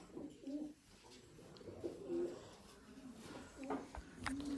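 Several pigeons cooing in low, repeated throaty bursts, fairly close, with faint voices and ambient noise in the background.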